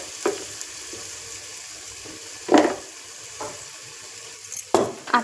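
Red chili powder sautéing in a pan gives a low, quiet sizzle, punctuated by several short scraping stirs. The strokes come at irregular intervals and grow busier toward the end.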